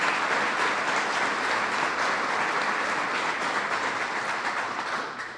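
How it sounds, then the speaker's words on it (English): An audience of public officials at the White House gives a dense, steady round of applause, loud and continuous throughout before easing slightly at the end. "Let's give all of these great public officials a rousing round of applause"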